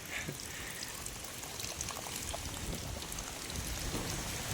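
Rainwater runs in from a field during steady rain with a continuous rushing, pattering wash, close and even throughout with no voices.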